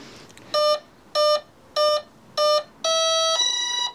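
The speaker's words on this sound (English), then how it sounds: "I've got a 4-cell in there, I should get 4 bleeps, and then I should get its little arming tone" The electronic speed controller in a Durafly Vampire RC plane with a 4-cell battery gives four short, evenly spaced electronic bleeps, then a longer two-part rising arming tone, clear and close with no voices.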